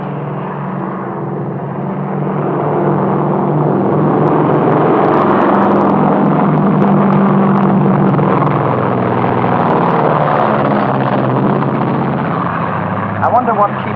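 Propeller airplanes flying overhead in a 1939 film scene, a loud, steady engine drone that holds for the whole stretch while people talk over it.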